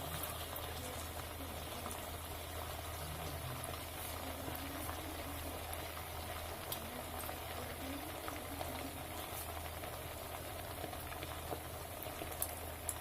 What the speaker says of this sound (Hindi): अब हम अपनी टिक्की फ्राई करेंगे। ऑयल पूरा गर्म हो चुका है